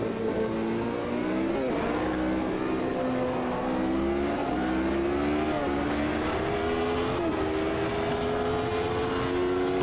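A race car engine held on launch control in Automobilista 2, a loud continuous high-revving drone with wavering, stepped pitch that hangs near the limiter for about ten seconds.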